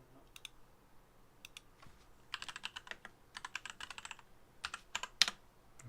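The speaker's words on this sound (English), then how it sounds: "And that one didn't work because I'm not actually typing properly." Typing on a computer keyboard during a studio stream, heard as bursts of quick, close key clicks separated by short pauses, with a sharper loud clack near the end and no talking over it.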